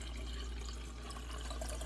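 Water is poured into a glass vase in a steady, continuous splashing fill that stays close and fairly loud from start to finish.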